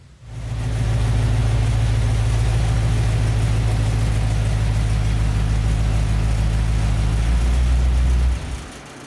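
A car drives a short loop around the block with a cheap starter blanket and header wrap fitted, its engine humming steadily and loud for about eight seconds before cutting off near the end.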